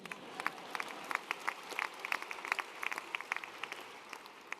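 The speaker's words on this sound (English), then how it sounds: "clap one more time" Audience clapping at a startup competition finals in Buffalo, a faint, distant scatter of many hands with sharper individual claps popping out over a soft room murmur.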